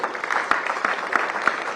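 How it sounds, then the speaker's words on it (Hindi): An audience at a literature festival claps briefly, a short burst of moderate scattered applause with individual sharp claps standing out. "ताली जरूर मैं भी बजाऊंगा, आप लोग।"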